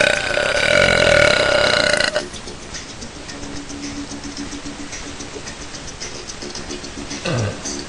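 A long, loud, rumbling belch lasts about two seconds up close, then fades into quieter breathing and faint rustling.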